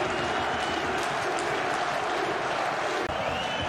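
At a Black Sea–Spartak Varna football match, a stadium crowd roars and applauds after a goal, a dense, steady wash of cheering heard at a distance.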